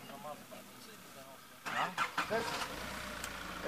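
An off-road car's engine revs up under throttle, rising in a few surges over low idle, while people talk nearby.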